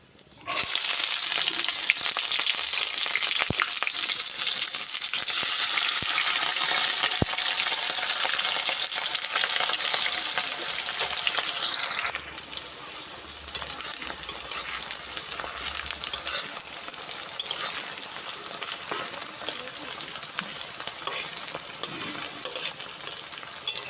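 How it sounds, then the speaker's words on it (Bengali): Chopped onions frying in mustard oil with bay leaf, dried chilli and cumin, a loud continuous sizzle that drops to a softer, steady crackle partway through, with no talking. "দিয়ে দিচ্ছি পেঁয়াজ কুচি"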